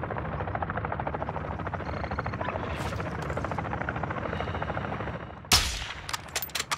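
A helicopter in Call of Duty DMZ drones with a rapid rotor chop for several seconds, then a sharp burst of gunfire cuts in near the end, followed by a few scattered shots.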